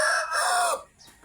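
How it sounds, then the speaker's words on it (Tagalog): A pet rooster crowing loudly and close by, one drawn-out cock-a-doodle-doo that holds steady and then breaks off, leaving near quiet. "May ibon kami rito mga kadidso."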